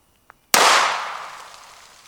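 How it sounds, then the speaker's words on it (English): A single revolver shot fired one-handed into the dirt, sharp and loud, with a long decaying tail. A faint tick comes just before it, and no voices are heard. "I wanted to shoot the dirt for this shot"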